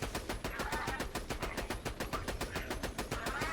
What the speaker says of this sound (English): It looks like I'll pump out one more mag.